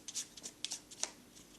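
A deck of tarot-style reading cards is shuffled by hand close up, giving a series of quick, soft, irregular riffling slaps and flicks with no voice over them.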